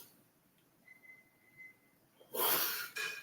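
One sneeze bursts out sharply near the end after a quiet breathy stretch, close and fairly loud, followed by a short trailing exhale.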